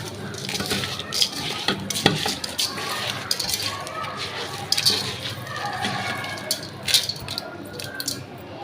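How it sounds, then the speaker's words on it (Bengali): Rice, lentils, salt, garam masala and bay leaves for khichuri are mixed together by hand in a pot, giving a close, continuous scraping and rustling with occasional light clinks of the metal pot. "আর এইগুলো আমি সব একসাথে মাখায় নিব।"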